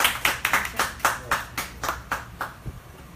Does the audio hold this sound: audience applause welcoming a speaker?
yes